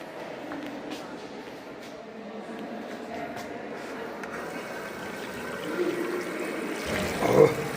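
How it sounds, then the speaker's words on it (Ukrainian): Hot water runs from a tap after an electric water heater (boiler) repair, a steady trickling stream with gentle background noise that swells slightly toward the end. "гаряча водичка біжить"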